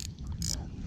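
A fishing reel's drag is clicked and ratcheted tighter on a boat in Port Phillip Bay: a short run of close mechanical clicking and gear scraping, with a bright burst midway, over low background rumble.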